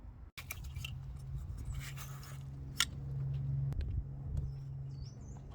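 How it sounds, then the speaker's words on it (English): Ignition coils being unplugged on an Audi TT MK1 engine: close plastic clicks and rustling handling noises, one sharp snap partway through, over a low background hum. "Unplug these 2 coils."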